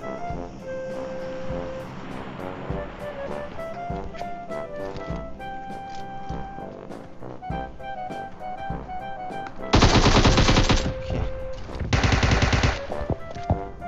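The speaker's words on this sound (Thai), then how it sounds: "มีคนยิงเขา" Gunfire in PUBG Mobile: a steady stream of close single shots and short bursts over game music, then two loud, dense bursts of automatic fire near the end, with little talking.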